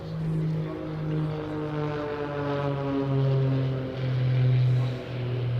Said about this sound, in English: I just love listening to the jets, honestly.